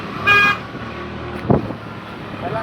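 A car horn toots briefly near the start amid a traffic jam at a crowded village fair, followed by a low thump and general road rumble.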